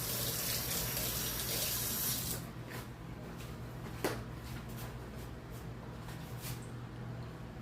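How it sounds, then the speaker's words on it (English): Hands being washed under a running kitchen tap, a steady gush of water that drops in level after about two seconds, then continues quieter with splashing and a single clink. "I'm going to wash my hands"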